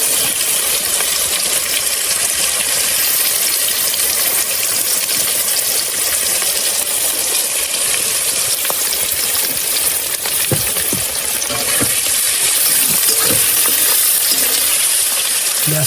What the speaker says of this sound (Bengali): তেলটা ভেজে পেঁয়াজটা দেবো। পেঁয়াজটা দিচ্ছি, ভেজে নেবো।